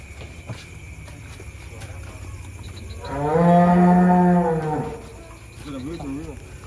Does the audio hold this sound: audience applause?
no